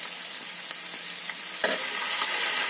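Soy sauce hits a hot frying pan and sizzles in a continuous bright hiss, with a small clink or stir partway through.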